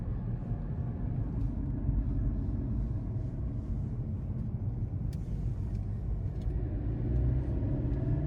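A Mercedes C-Class on the road, heard as a continuous low rumble of engine and tyres from inside the car, steady and unbroken with no talk.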